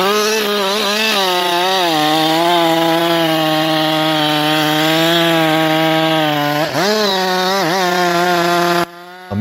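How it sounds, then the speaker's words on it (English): A Husqvarna chainsaw cuts into a large, massive tree trunk, its engine droning loud and steady at high revs for several seconds, dipping briefly under load before cutting off near the end. "With the mighty Husqvarna chainsaw in hand, the operator begins the first deep cut."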